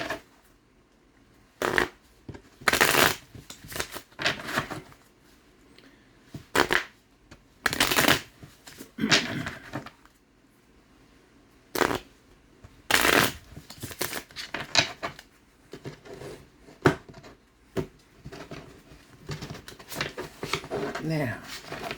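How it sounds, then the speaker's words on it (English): A deck of oracle cards is shuffled in repeated short bursts of crisp riffling and flapping, with quiet pauses between them and no talking. "Let's shuffle these cards right here."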